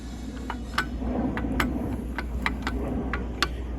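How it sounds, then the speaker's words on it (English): A Harbor Freight belt sander, just modified, spins free by hand or at low speed, giving a faint low whir with a steady run of light ticks and clicks. "Yes, that clears and spins free now."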